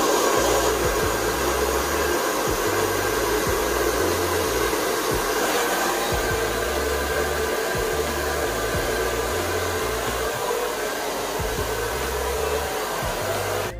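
A hair dryer on medium heat blows steadily and loudly up close as hair is blow-dried with a brush, a continuous roaring whoosh with slight flutter and no voices.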